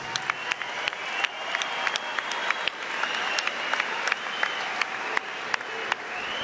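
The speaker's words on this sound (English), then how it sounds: "let's get a nice round of applause out here for both of these fighters" A boxing arena crowd in Newcastle applauds both fighters after a twelve-round bout with a steady, moderately loud wash of clapping. Sharper individual claps stand out in the foreground.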